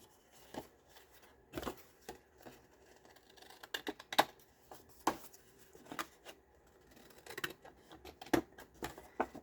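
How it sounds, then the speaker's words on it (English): Scissors snip through folded paper folio pages at close range, irregular crisp cuts and clicks with gaps between, faint paper rustling around them and no talk. "We're going to cut these off right at the fold line"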